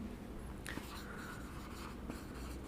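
Chalk or marker scratches across a board during a soil mechanics lecture, giving a steady, faint rasping texture that runs continuously for a few seconds over a low room hum.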